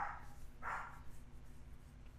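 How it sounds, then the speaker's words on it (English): A female dog barks twice, muffled and somewhat distant, over a low steady hum, with a faint yip near the end. "She is barking pretty loud."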